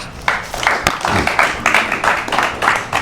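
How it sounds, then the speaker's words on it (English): A modest audience at a tech meetup gives a round of applause, the individual claps distinct and slightly uneven, fairly close and rising in bursts. "Round of applause"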